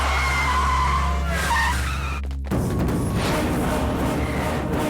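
A car swings round hard with a loud, sustained tire skid that fills the first two seconds, breaks off abruptly, then gives way to a rough, noisy roar of the vehicle pulling away.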